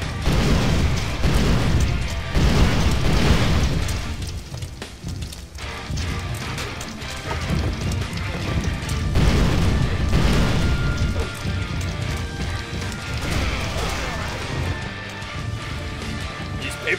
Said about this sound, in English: Look at all these explosions going on in the ring.